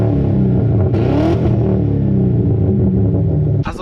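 A Mercury Grand Marquis's 4.6-liter naturally aspirated V8 rumbles loudly and steadily, its pitch rising and falling as it revs, with a brief clatter near the end.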